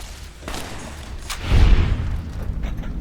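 Sniper rifle shot in Fallout: New Vegas, fired near a trailer park: a single heavy, booming report, close and loud, with a rumbling tail.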